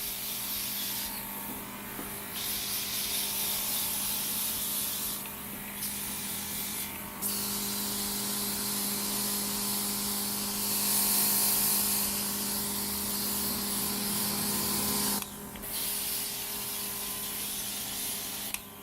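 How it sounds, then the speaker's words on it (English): An airbrush sprays foundation and highlighter during a bridal makeup application, producing a steady close airy hiss that runs almost continuously with brief pauses and bursts. "We are even going to highlight with airbrush."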